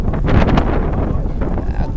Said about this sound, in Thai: ลมแรงอากาศหนาวติดลบ